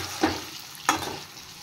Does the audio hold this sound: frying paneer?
yes